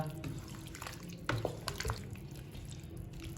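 Water is poured into a pan of potatoes and bell peppers, a faint trickling and splashing with a few small clinks, low in level and without speech.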